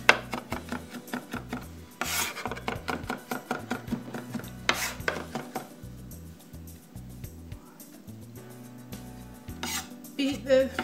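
Garlic being minced very fine on a board, giving a steady run of rapid rasping and scraping strokes with short pauses between them, loud and close with no talk.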